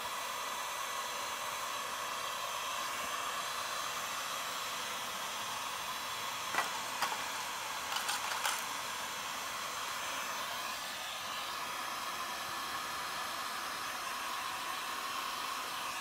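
A heat gun blows a steady, even hiss of hot air while warming the backs of silver Porsche steering wheel trim pieces, with a few faint clicks partway through.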